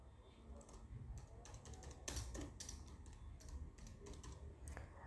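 Rapid clicking of a computer keyboard while C code is typed, close and moderately quiet, in steady bursts of keystrokes with no talking.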